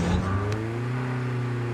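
A car engine drones steadily and close, a brief rising rev at the start settling into a sustained low hum, with faint voices in the background.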